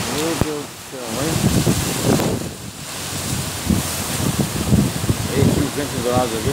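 Strong storm wind during a dust storm in Dourados, Brazil, roaring steadily and buffeting the microphone close up while a person exclaims throughout.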